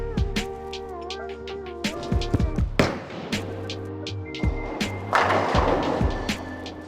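Motiv Hyper Venom bowling ball rolling down a bowling lane, a steady rumbling roll with sharp crashing hits and clatter, loud and close, with no talking.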